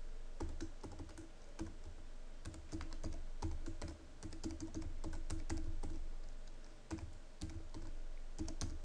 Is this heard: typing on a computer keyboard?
yes